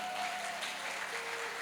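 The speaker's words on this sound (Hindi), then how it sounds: "ताली बजाओगे सर्दी नहीं लगेगी" Audience clapping at a Hindu religious discourse (Navdha Bhakti katha) at the Prayagraj MahaKumbh 2025, a dense, steady wash of many hands applauding together throughout, with no talk over it.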